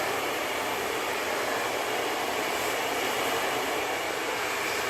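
A hair dryer blowing on hair after an at-home keratin smoothing treatment, a loud, constant whooshing roar held without a break, close to the listener and with no voices over it.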